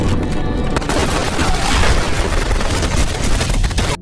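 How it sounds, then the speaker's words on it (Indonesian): Dense, continuous barrage of loud booms and rapid gunfire in an action film's desert shootout, unbroken for the whole stretch with no clear pauses. "langsung melepaskan tembakan beruntun"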